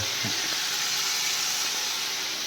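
Masala fries in hot oil for doi maach, a Bengali fish curry, giving a loud, steady sizzling hiss that holds at an even level throughout, with a brief clatter at the very end.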